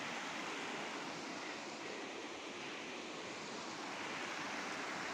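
Steady broadband rush of water flowing at the source of a mountain stream on the Shrikhand Mahadev Kailash trek route, continuous and close, with no voices.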